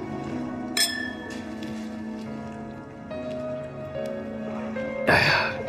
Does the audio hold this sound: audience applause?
no